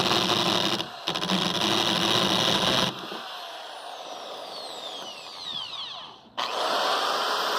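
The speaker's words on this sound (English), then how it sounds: "Alright, so we're gonna go ahead and start drilling." A power drill whines loudly in steady bursts drilling a hole for a factory spoiler on a 2006-2010 Dodge Charger, briefly stopping, then a high spinning tone winds down before the drill roars back.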